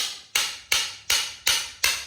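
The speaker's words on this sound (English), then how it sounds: "take your hammer and you just want to beat it out" A hammer strikes a metal punch set inside a spent shotgun shell to drive out the primer, six sharp, loud, evenly spaced metallic taps close to the microphone.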